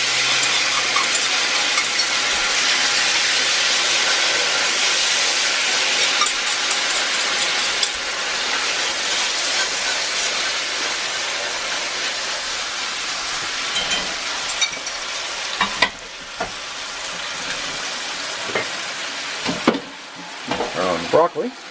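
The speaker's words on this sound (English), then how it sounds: "So I got my pasta. I'm gonna throw in my sauce." Pasta and sauce sizzle and spit loudly in a hot cast iron pan, a dense steady frying hiss with occasional stirring scrapes toward the end.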